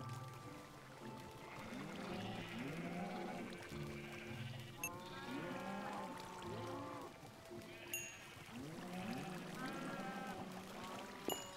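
Blocky Minecraft sheep bleat again and again in wavering, nasal cries that come in clusters over a low ambient background, with an occasional sharp click between them.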